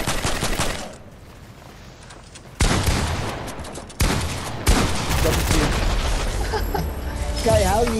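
Rapid gunfire in a multiplayer shooter game, loud bursts of shots coming in several bunches across the moment, with player voices talking over parts of it.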